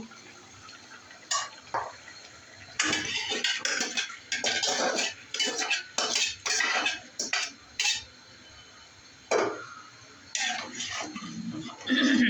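Split chickpea dal goes into a cooking pot of beef in a home kitchen, with a run of scattered clattering and rattling bursts and metal scraping against the pot, fairly quiet.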